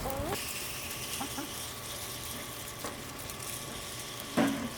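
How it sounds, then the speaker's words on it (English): A backyard garden chicken clucks softly while pecking at a tomato, a few scattered short calls over a steady low hiss, with one louder burst near the end. "I think this chicken wants a tomato."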